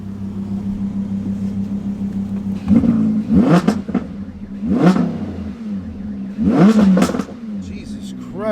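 A 2017 Audi R8 V10 idles with a low hum, then its engine revs sharply three times in rising, snarling sweeps, loud and close, with voices around it.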